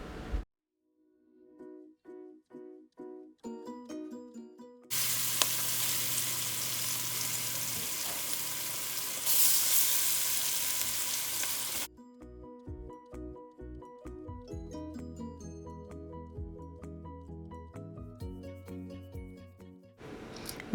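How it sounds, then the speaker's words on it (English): Marinated goat meat dropped into hot oil with curry powder for Jamaican curry goat: a loud burst of searing sizzle lasting several seconds, framed by stretches of musical notes before and after. "Then I'll be adding the marinated meat, and I'm going to allow it to sear for about 8 minutes."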